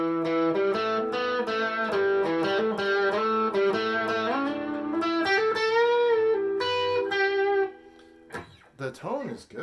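A Harley Benton SC-550 electric guitar played through its bridge humbucker, clean and bright. It rings out sustained chords and single notes for several seconds, then stops and gives way to a few short, scattered sounds.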